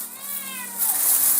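A cat meows close by, a drawn-out, wavering cry lasting about a second against a low, steady hum of background noise.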